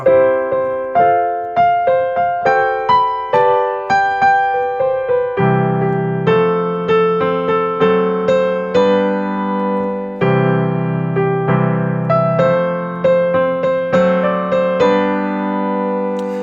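A melody played over a diminished chord progression on a sustained, piano-like keyboard, with a busy line of quick single notes running above chords that change every few seconds, clear and close with no talk.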